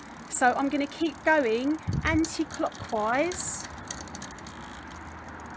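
Faint mechanical ticking from a bicycle rear derailleur whose gear cable lacks tension, running under steady close-up talking as the barrel adjuster is turned.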